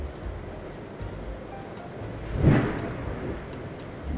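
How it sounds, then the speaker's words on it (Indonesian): Rain begins to fall outdoors with a soft, steady hiss of drops, and a low rumble swells briefly in the middle, with no voices. "sudah mulai turun hujan."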